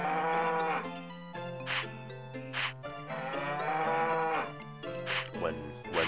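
Repeated cow moos from the farming game Harvest Moon 64 as a herd of four cows is tended, several drawn-out lowing calls one after another over game music, close and clear without speech.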